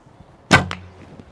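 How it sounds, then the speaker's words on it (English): A single arrow is loosed from an ILF recurve bow, the Bone Reaper by Daylite Archery, with a sharp, close snap of the string followed by a brief humming decay. "Then you simply watch your arrow flying."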